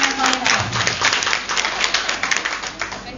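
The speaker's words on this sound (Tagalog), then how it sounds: "Pumalakpak lahat ng mga anak ng Panginoon." A church congregation applauding together, a dense steady patter of many hands clapping at close range, with voices mixed in.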